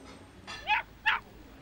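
A dog gives two short, yelping barks with a whimpering, whiny edge, spaced about a third of a second apart against a quiet indoor background.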